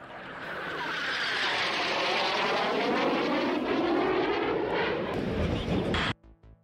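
Eurofighter jet aircraft flying overhead, a broad roaring engine wash that swells and shifts in pitch as it passes, loud and steady before cutting off abruptly near the end.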